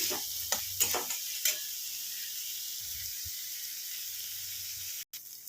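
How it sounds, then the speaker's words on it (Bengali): Onions and shrimp heads frying in a pan for soupy pasta give a steady close sizzle and hiss. A few scraping stirs come early, followed by quieter clinks, with no talking. "এটাকে আমি একটু ভালো করে ভেজে নেব"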